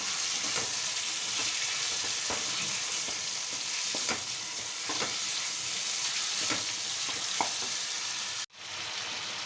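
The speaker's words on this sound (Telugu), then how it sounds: "అల్లం వెల్లుల్లిపాయ పేస్ట్ మంచిగా వేగిపోయిందండి ఇప్పుడు చికెన్ వేసుకున్నాము" Chicken fries in hot oil with ginger-garlic paste, a steady dense sizzle broken by occasional stir scrapes, then cut off abruptly near the end before the crackle resumes.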